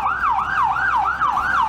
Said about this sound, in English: this ambulance had difficulty passing through an underpass due to heavy traffic